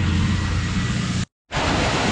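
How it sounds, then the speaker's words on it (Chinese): Shuzheng waterfall in Jiuzhaigou roars as a steady broadband rush of falling water, loud and close, briefly cut to silence midway before resuming. "这里就是树镇瀑布。"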